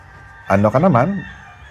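A single rooster crows once, loud and close, a short wavering call lasting under a second.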